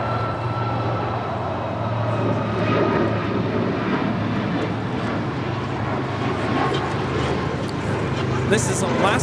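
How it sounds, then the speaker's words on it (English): Loud, sustained jet engine roar from an Alaska Airlines Boeing 737 MAX 9 on takeoff at LAX, a steady powerful rumble with a droning low hum, swelling slightly toward the end as the aircraft climbs out. "1127 taking off to Portland on a MAX 9."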